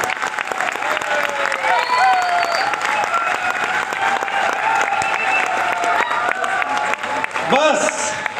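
A studio audience claps steadily for several seconds at celebration of a one-crore milestone, with faint cheering and a voice speaking over the applause toward the end.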